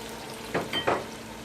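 Chicken pieces drop into a hot masala for biryani, a few short sizzling bursts rising close by in quick succession before settling into a faint hiss.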